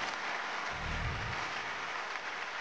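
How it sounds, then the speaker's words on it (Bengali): Audience applause at a newlyweds' love-themed party performance: a continuous, fairly soft patter of many hands clapping, with a brief low thump partway through. "হাততালি থামলো কেন?"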